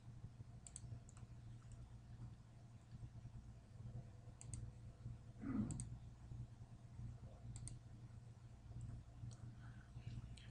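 A computer mouse gives soft, sparse left clicks at irregular intervals over a low steady electrical hum, faint and close, with one brief louder rustle midway.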